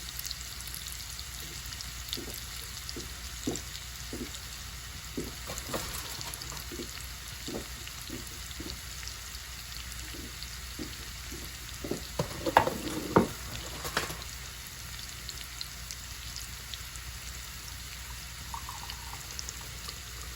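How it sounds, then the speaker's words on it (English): Spinach sautéing in a pan gives a quiet, steady sizzle with scattered soft taps and scrapes of stirring, a busier burst of clatter midway. "And I just saute down for a few minutes."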